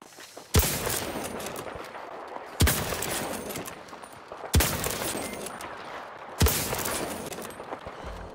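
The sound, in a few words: sniper gunfire in video game Battlefield 2042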